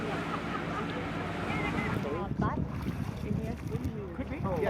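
Boat engines and wind rumble near the shore in Ha Long Bay, Vietnam, as boats come in, with waves washing in and people chatting in the background.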